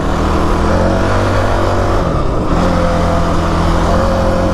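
A Kawasaki KFX 450R ATV engine roars loud and close while riding, with a brief dip in the middle like a gear change before the drone resumes. No one speaks.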